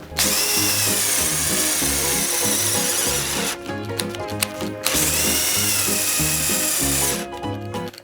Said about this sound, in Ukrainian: Так, 25 те сверло форснера. Ага, другу швидкість поставлю.